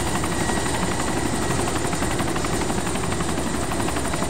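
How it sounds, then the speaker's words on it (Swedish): Helicopter in the video game DayZ at night: a steady, loud rotor chop and engine drone filling the whole clip without a break. "Det är en helikopter där."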